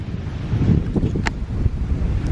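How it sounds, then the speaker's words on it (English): Wind gusts blow across the microphone at Mirror Lake on a breezy day, a loud, rumbling low buffeting with a brief faint rustle, and no talking. "It's a beautiful day. It's a little windy though."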